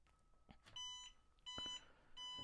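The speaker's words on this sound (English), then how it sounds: "the three red LED beeps is to let you know that the USB key is not inserted" A desktop laser engraver sounds its USB-key-missing warning: three short bright electronic beeps, evenly spaced, fairly faint against a quiet room with a few soft clicks.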